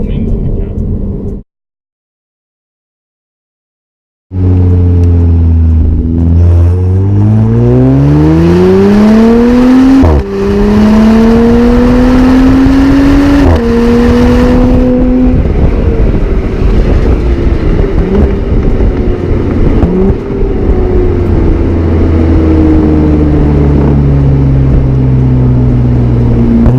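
Audi B9 S4 with an AWE exhaust heard from inside the cabin: a loud, rising engine drone that climbs through the gears after a brief silence, holding a steady deep hum later.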